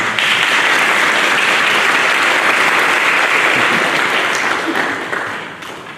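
Church congregation applauding to welcome graduates at a graduation worship service, a loud, dense and steady burst of clapping throughout that fades slightly at the end.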